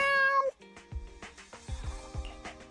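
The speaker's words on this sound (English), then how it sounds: "That sound. Has Nekomata become a real cat?" Cartoonish cat meows from Zenless Zone Zero, several short meows over light game music, the first one bright and drawn out, followed by a few softer, lower mews.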